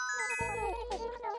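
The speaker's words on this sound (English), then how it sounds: "The little bell, oh my god." A small bell jingles in the Animal Crossing video game, a bright tinkling chime with a low tone beneath, heard alone and close for a brief moment.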